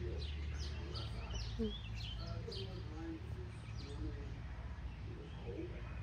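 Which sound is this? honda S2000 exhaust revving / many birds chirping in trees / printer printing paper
many birds chirping in trees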